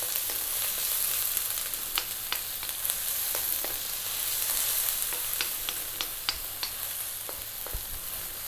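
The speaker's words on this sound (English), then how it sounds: "We're now going to drop in the onion. And we're on fairly high heat, as you can hear." Steady, loud sizzling of onions frying in a pan on fairly high heat for a fish curry, with scattered crackles and pops throughout and no talking.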